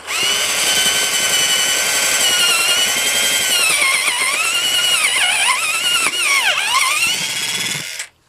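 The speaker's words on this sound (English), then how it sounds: "I'm going to drill holes in this board" A drill whines loudly and continuously, its pitch bending and dipping as it bores holes in a wooden board, then stops abruptly.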